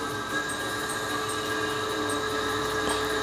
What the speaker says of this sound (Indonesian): Itu suara bearing